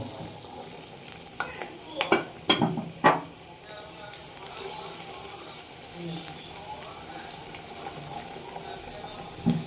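Medu vada batter dropped into hot oil, with a few sharp clatters and scrapes of a utensil followed by a faint, steady sizzle and bubbling.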